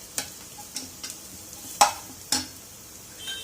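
Onions frying until golden brown in a pan for an egg curry, a low quiet sizzle broken by several sharp scrapes and clicks of a spoon against the pan.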